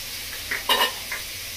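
Sliced pointed gourd (potol) and onion frying in a pan, a steady soft sizzle with a few short stirring scrapes, close and alone without talk.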